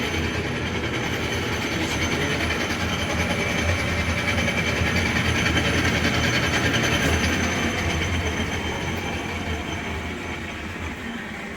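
A Logan Powermatic 6561 14-inch by 40-inch metal lathe with a brake runs as a steady, loud, close mechanical drone. Near the end it eases off and fades as the machine is shut down.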